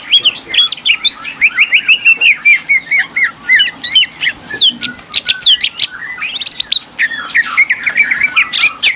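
A canary in a small house sings continuously, loud and close, in rapid chirps, trills and high whistled phrases, with a few sharper squawks mixed in.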